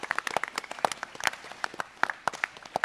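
Sparse, scattered clapping from a small audience at a GunCon panel, individual claps popping irregularly rather than forming a full wash.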